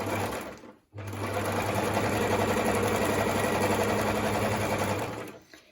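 A Privileg Voll-Zickzack 210 sewing machine starts, pauses briefly, then whirs steadily for about four seconds before stopping, close up and with no talking.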